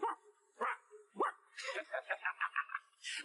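A person imitates a dog, first with a few separate woofs and then a quick, evenly spaced run of barks, all voiced close and fairly soft.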